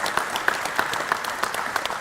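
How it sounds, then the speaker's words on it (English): Audience applause at a Vietnam-era veterans awards ceremony in West Haven, a steady roomful of clapping with a few sharper claps standing out, moderately loud and continuous throughout. "Big round of applause for Dave."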